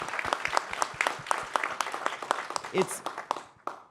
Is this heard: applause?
yes